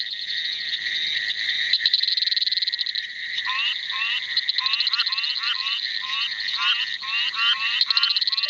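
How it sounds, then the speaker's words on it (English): Sahyadri cricket frogs call in a chorus of rapid, insect-like clicking trills, some steady and high-pitched, others in pulsed bursts, clear and close and continuing throughout without talking. "Sayadri cricket frog"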